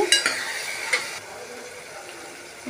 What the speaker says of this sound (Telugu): ఇలా నూనెలోనే ఫ్రై చేసుకోవాలి